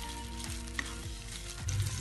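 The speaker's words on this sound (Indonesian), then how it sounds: "Itu kita tumis sosis yang udah dipotong." Sliced sausages sautéing in a pan for mie carbonara, giving a steady, close crackling sizzle with small pops and the occasional scrape of stirring.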